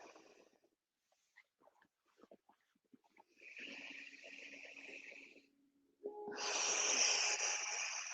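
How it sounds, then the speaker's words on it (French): During a yoga practice, a person breathes in and out through the nose, close by: soft sniffs and faint scattered breath noises, then a sustained nasal inhale and a louder, longer airy exhale. "On inspire, expire toujours par le nez."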